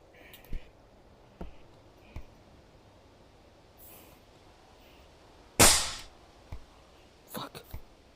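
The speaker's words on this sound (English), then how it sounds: "Save the nail gun." A nail gun fires in a construction video game as a series of sharp, isolated snaps spaced a second or so apart, with one louder, harsher crack in the middle and a quick pair near the end.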